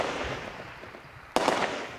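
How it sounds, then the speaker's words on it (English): Outgoing gunfire at an army defense position in Bahri, Sudan: a single sharp, loud report bursts out after a stretch of low background noise, followed by a short rumbling tail. "They still live with the gunfire, but now it's outgoing."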